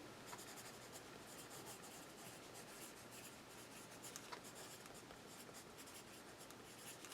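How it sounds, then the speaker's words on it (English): A pen writes on paper, a faint, steady scratching with small strokes and pauses, close by and quiet, with no talking. "Let me write it down because I just took a picture."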